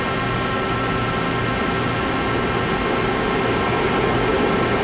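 A 2010 Mori Seiki NL2500SY lathe with its main spindle turning at 1000 RPM gives a loud, steady mechanical whir with an even hiss and faint tonal whine that does not change, and no voices.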